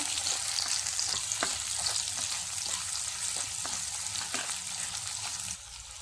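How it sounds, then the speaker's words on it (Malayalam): Chopped onion sautés in hot oil in a pan for a Kerala curry. A steady, close sizzle runs throughout with light ticks from stirring, then quietens slightly near the end. "ഒരു സവാള അരിഞ്ഞത് ചേർത്ത് കൊടുക്കാം. എന്നിട്ട് ഇതൊന്ന് വഴറ്റി കൊടുക്കാം"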